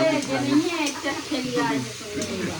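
Oil sizzles and spatters steadily in a pan as spices are tempered, a voice talking over it, the frying hiss staying present beneath the speech.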